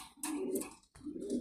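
Indo Lahore color pigeons coo close up in two soft, rounded phrases with a brief pause between them, clear and alone.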